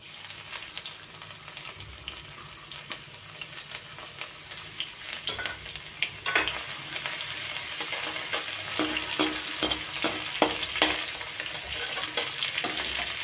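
Green chillies and grated ginger fry in hot oil for bread pakoda filling, a steady close sizzle with scattered sharp crackles and pops that grow louder and busier toward the end, with no talking.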